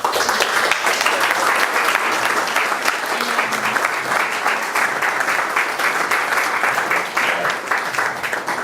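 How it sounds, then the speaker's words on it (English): Dense, steady applause from an audience at a photography exhibition gallery, loud and unbroken for the whole stretch with only a faint murmur beneath. "maybe this is time for another applause, because these pictures are great."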